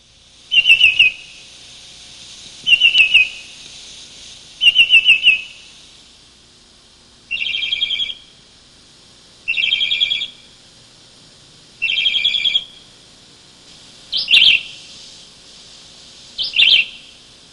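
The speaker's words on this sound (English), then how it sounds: "You've been hearing the call of the mockingbird." A mockingbird calls in a series of eight clear, whistled chirping bursts spaced roughly two seconds apart, loud and close with quiet gaps between.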